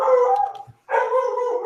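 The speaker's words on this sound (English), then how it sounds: "Shut that damn dog up." A dog howls loudly and close by in two long, sustained wailing bursts separated by a short pause, with faint bark-like yips between them.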